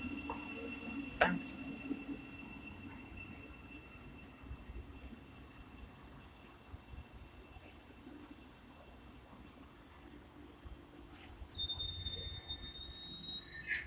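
Class 700 unit 700149 passes through a station on the East Coast Main Line at Welham Green, bound for Peterborough: a steady, moderate rumble of rolling stock with brief squeals and clicks early on and a rising hiss near the end.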